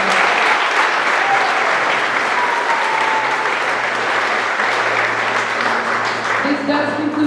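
An audience at a spring athletic awards ceremony gives a loud, sustained round of applause filling the room, with a few voices audible underneath.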